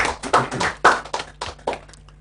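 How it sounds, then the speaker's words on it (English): A small group claps for a Convention People's Party national chairperson aspirant at a debate, giving brief, uneven bursts of hand claps that thin out to a few scattered final claps. "Let's give a round of applause to this wonderful gentleman who wants to lead the Convention People's"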